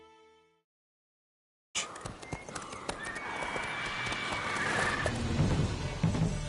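In The Witcher 3: Wild Hunt, the horse Roach gallops with rapid clip-clop hoofbeats that grow steadily louder and busier, with a neigh partway through, following a brief snatch of music and a moment of silence.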